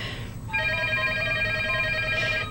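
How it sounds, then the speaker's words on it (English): A telephone bell rings once in a steady, clear tone lasting about two seconds, near and moderately loud, with no voices. "Is the phone ringing?"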